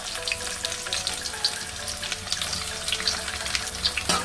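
Sliced onions sizzle steadily as they fry in hot oil already seasoned with cloves, whole cumin and a dried chilli for green chicken, a dense, even crackle with small pops close by and no talking.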